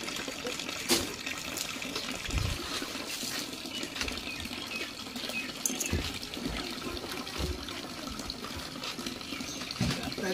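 Water splashes and trickles steadily while something is washed and wiped clean, with a few sharper splashes among the running flow and no talking.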